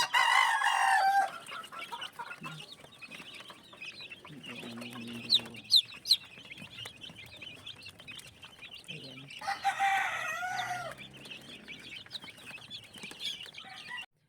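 Cockerels and chicks in a multipurpose pen on a small farm: loud crowing bursts at the start and again midway, with scattered clucks and soft cheeps between, close by.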